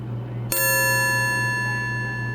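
A gong in a video game, struck once with a sharp attack and then ringing in a bright, shimmering sustained tone over a steady low hum, with no talk.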